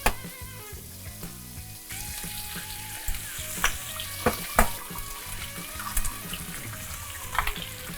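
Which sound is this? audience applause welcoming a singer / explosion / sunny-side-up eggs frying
sunny-side-up eggs frying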